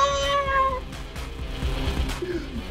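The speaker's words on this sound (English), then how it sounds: "Get out of here. You freaking cat." Within the party brawler game Gang Beasts, a cat meows loudly and drawn out near the start, over a thumping, rhythmic background of game music and effects.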